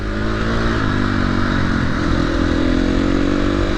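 A motorcycle rides along a foothill road, its engine a loud, constant drone with wind rush and a slight pitch rise partway through, close and without talk.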